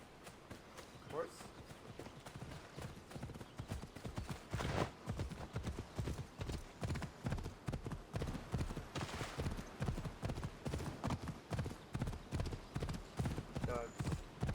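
Horse hooves clip-clop steadily in Assassin's Creed Odyssey, a rhythmic trotting gait that holds close and prominent for the whole stretch, with someone speaking faintly over it now and then.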